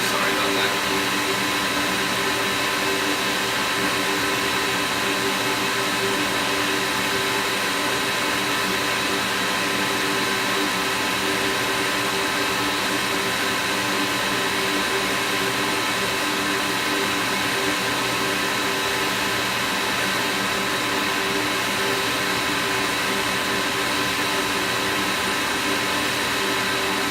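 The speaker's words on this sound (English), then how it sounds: "Turn the air filter on, that might help a little bit. Probably going to get a little loud" An air filter runs loudly and steadily close by in a workshop during a PS4 HDMI port replacement, giving a constant whirring hum throughout, with occasional faint talk beneath it.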